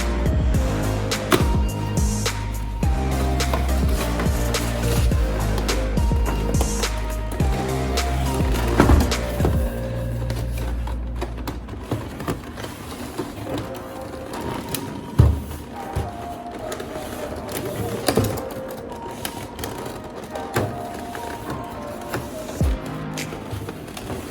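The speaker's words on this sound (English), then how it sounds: "let's now listen to the ASMR sound of unboxing" A Hot Toys Thanos Endgame figure's packaging being unboxed close up, with loud crinkling, scraping cardboard and plastic, thumps and sharp clicks throughout, no talking.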